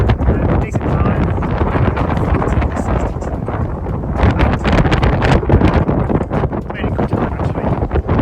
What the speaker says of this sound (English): So the wind really picked up here.